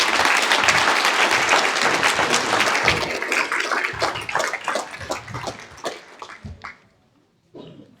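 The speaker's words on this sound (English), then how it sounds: "Big applause for Philipp." Conference audience applauding warmly to welcome a speaker, a dense roar of clapping that thins into scattered claps and fades out near the end.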